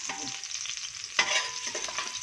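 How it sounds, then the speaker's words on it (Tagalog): Garlic sautés in hot oil in a pan for Filipino pork bopis, a close, continuous sizzle broken by brief scraping stirs, with no voices. "Higisa natin siya sa mantika."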